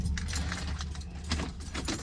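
Car keys for a Land Rover Defender 90 TD5 Tomb Raider edition jangle as they go into the ignition, a cluster of close metallic clinks and rattles in quick irregular bursts.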